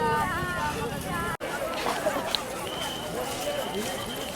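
A crowd of pilgrims walking to the Sangam at Magh Purnima, a dense outdoor babble of many voices and movement, with someone speaking close over it.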